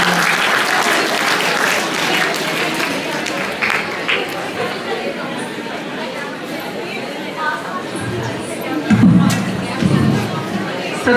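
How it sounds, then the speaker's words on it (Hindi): Loud crowd applause at a New Year celebration for education students and faculty, sustained dense clapping mixed with crowd chatter and shuffling, with a few heavier thumps near the end. "बार जोरदार तालियां।"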